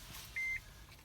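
A 2014 Honda Odyssey that won't start gives one short, clear electronic beep when the start is tried, brief and steady over a quiet background.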